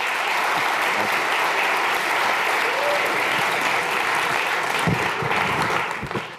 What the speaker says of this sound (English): So please give a warm round of applause to Bob Jamieson.